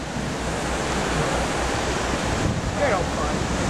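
Continuous wash of ocean waves heard from a cruise ship at sea, a steady broadband surge with wind buffeting the microphone and a brief faint voice near the end.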